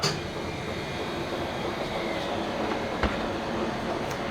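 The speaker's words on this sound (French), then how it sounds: "Ensuite, je mets sur production. La machine s'enclenche." A professional ice cream turbine churning a strawberry sorbet runs with a steady, dense mechanical whir and hum. There are a couple of faint clicks, and the drone holds even and unbroken throughout.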